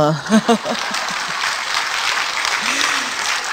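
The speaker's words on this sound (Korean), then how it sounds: "박수 치는 거 이때는." Audience applause breaks out in a lecture hall, a steady wash of clapping that follows a speaker's brief words and continues on its own.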